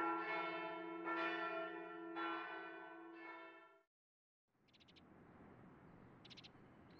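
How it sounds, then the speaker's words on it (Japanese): A church bell in the video game Tokimeki Memorial Girl's Side 4 strikes four times, each resonant toll ringing on. After a brief silence comes a quieter ambience with light chime-like tinkles. "教会の鐘の音に祝福されて私たちは結ばれました。"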